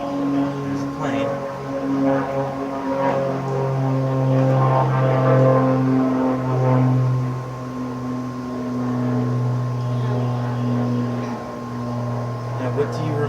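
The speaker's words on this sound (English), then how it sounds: "There's a plane." Propeller airplane passing overhead, a sustained droning hum with steady tonal engine harmonics, swelling and fading over several seconds, moderately loud with faint background sounds.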